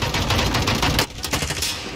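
Automatic gunfire in Call of Duty Warzone, a fast loud rattle of close shots that pauses briefly, then resumes in shorter bursts.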